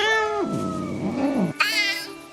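In a video game, cats yowl and caterwaul at each other, one drawn-out wavering cry sliding downward and then a sharper, higher meow answering, loud and close.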